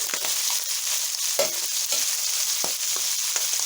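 Tomatoes, onions and garlic frying with Spam in a pan, a bright continuous sizzle with scattered spatula scrapes and stirring clicks, close and fairly loud, no one talking.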